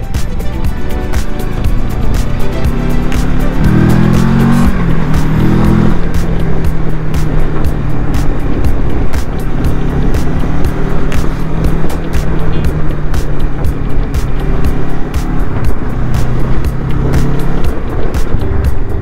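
Mid-size A2-licence motorcycle cruising and accelerating on a ring road, engine droning loudly and close with rising pitch sweeps as it pulls through the gears, wind rush throughout.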